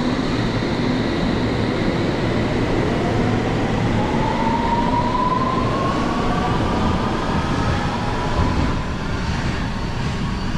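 Continuous rumble of a train rolling on rails near Houston, loud and near, with a rising whine sweeping up through the middle and steady clatter underneath.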